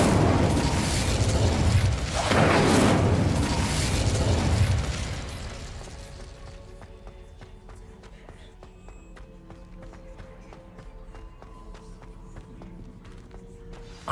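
The Incendio fire spell in Hogwarts Legacy bursts with a loud, roaring whoosh for several seconds, then fades into quieter game ambience with faint clicks and tones.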